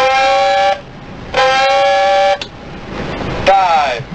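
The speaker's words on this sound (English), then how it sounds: "Sound two blasts of dive alarm." Two blasts of a submarine dive alarm, each a harsh, loud, buzzing honk lasting under a second, followed by a voice calling over the intercom.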